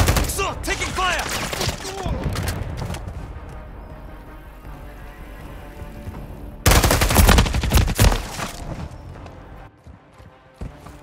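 Bursts of rapid gunfire crackle in a shooter video game, a sharp cluster early on and a louder, denser volley later, with scattered game sounds and voices between them.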